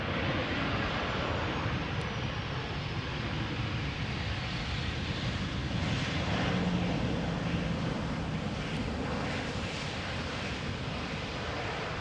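A Transavia airliner at Amsterdam Schiphol gives off a steady broadband jet-engine roar that stays at an even level the whole time, mixed with some wind noise, with no voices.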